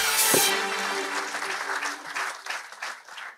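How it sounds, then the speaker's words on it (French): Audience applause at a Metz Science Schools startup meeting, a steady wash of clapping that starts strongly and carries on, slowly thinning toward the end. "on peut l'applaudir bien fort"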